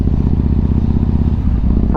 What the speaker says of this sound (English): we're so glad we're on a motorcycle this evening